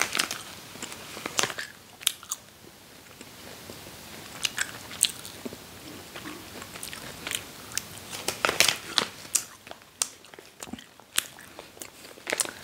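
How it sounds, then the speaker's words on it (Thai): Dried peach-flavoured plums from Guangdong, China, bitten and chewed up close: repeated sharp crunchy bites and moist chewing noises scattered irregularly over several seconds, with no talking. "โอเคคราวนี้ชิมรสชาติ"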